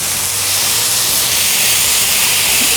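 Onion burger patties sizzle loudly on a hot griddle as a smasher presses them flat, a dense, steady hiss that fills the short span without pause.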